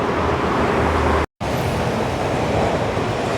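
Steady, dense roar of road traffic close by, with a brief cut to silence partway through before the continuous vehicle noise resumes.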